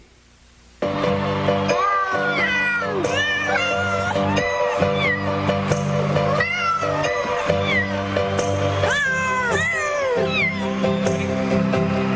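A cat's meows play over a radio talk show broadcast, repeated drawn-out yowls and cries rising and falling over a sustained tonal background, loud and close after a brief quiet start.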